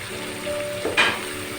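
Dal mash curry with yogurt sizzles steadily in a pan as the yogurt's water cooks off, a loud close hiss with a brief scrape of a spoon near the end.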